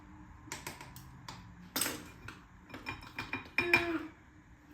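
Spoon scraping and clinking in a bowl as corn flour is stirred into food for dinner, a quiet, irregular run of sharp taps and scrapes with short pauses between strokes.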